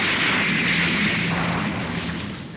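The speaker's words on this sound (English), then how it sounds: "an enormous explosion destroyed the entire continent" An enormous explosion destroying an entire continent, rendered as a sound effect: a loud, sustained, broadband roar that rumbles continuously and slowly fades, with no voices over it.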